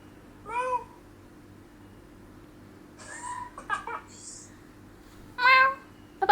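A person imitates a cat's meow, producing several short, high, tonal meows spaced across the clip, fairly close and alone against a quiet background hum.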